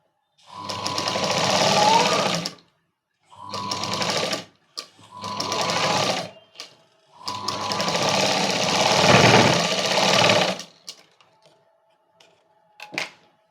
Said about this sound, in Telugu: అని మనం దీని మీద స్టిచ్ వేసుకోవాలి మళ్ళీ.